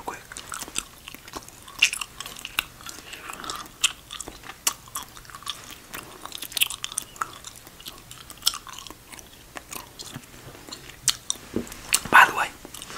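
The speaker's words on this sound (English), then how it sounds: "Let's just get some nice gum chewing on the sounds real quick." Gum chewed right up against the microphone, with wet, clicky smacks and crunchy bites repeating irregularly throughout, close and intimate, with breathy vocal sounds scattered between the chews.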